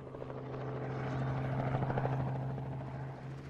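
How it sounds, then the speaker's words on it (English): A helicopter chops steadily overhead, its rotor thrum swelling louder toward the middle and then easing slightly, fairly faint and heard alone. "The new chopper won't just offer support in times of crisis though."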